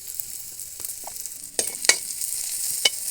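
Onions and turmeric fry in a pan while a spoon stirs them, giving a soft steady sizzle broken by a few sharp scraping clicks of the utensil, heard close with no talk.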